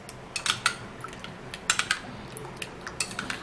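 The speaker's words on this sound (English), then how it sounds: "So I'm actually gonna be stirring this all up" A spoon clinks and scrapes against a small bowl while stirring a homemade skin remedy mixture, giving quiet, irregular taps and clicks close by with soft pauses between them.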